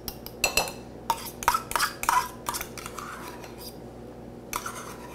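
A fork scrapes and clinks against a bowl while a mayonnaise dressing is stirred, giving a string of sharp, irregular metallic taps and scrapes close up. Between strokes there are short pauses, and a few quieter clicks come near the end.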